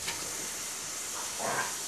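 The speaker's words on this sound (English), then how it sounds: "Oh, smell that turkey soup. Okay, that's been boiling up pretty good there." Turkey soup boiling in a pot on the stove gives off a continuous close hiss and bubbling simmer, a steady broadband wash with a slight swell near the end, with no talking.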